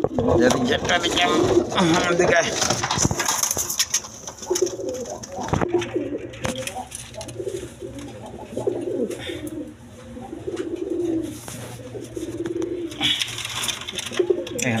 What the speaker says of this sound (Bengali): দেখেন কোয়ালিটি সম্পন্ন কবুতর, খুব ডাকা ডাকে